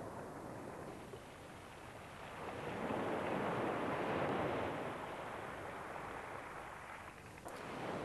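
Broadband ocean surf rolls and washes steadily onto a sea-turtle nesting beach, swelling louder in the middle and easing off, with no voices.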